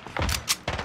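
Rapid gunfire bursts from Call of Duty: Rebirth, several sharp overlapping shots in quick succession across a short burst, fairly loud and close.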